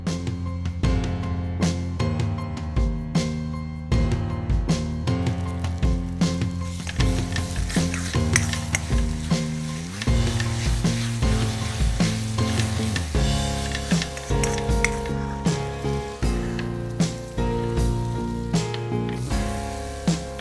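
Ground dal is added to hot oil in a pan for Khandeshi dal gandori, giving a continuous sizzle broken by repeated stirring scrapes and squishy clicks, with no talk.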